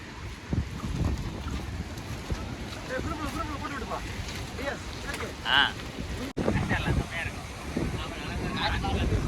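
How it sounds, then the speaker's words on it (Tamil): Sea waves surge and wind roars during a storm, a constant rough rush with gusty buffeting against the microphone, while voices talk faintly underneath. "அலைய பாருங்க கடலை பாக்குறதுக்கு பயங்கரமாக இருக்குது"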